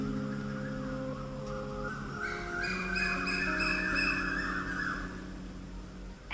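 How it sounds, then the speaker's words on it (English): Birds calling outdoors at about quarter to three in the middle of the night, steady overlapping chirps and trills at moderate distance, fairly faint with no talking. "And there are birds chirping away."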